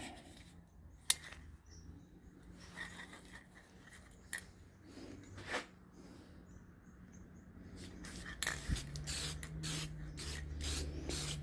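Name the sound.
spraying polyurethane from a spray can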